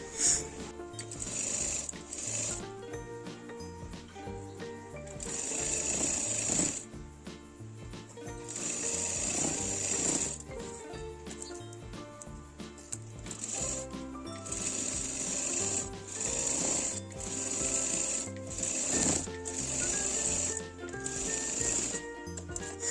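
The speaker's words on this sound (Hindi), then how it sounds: "तो इस तरह से इसमें सिलाई लगानी है।" An electric sewing machine stitches lining onto saree fabric for a blouse, whirring in rapid bursts of needle chatter broken by short pauses, close and steady throughout.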